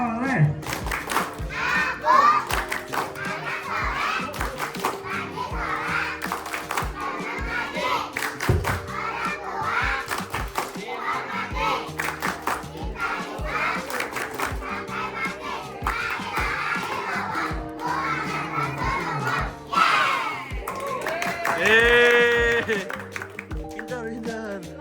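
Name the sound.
children clapping and shouting the Tepuk Anak Soleh clap chant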